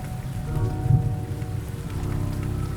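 Steady rain falling at night, a dense continuous patter with a low rumble underneath, moderately loud and even throughout with no voices.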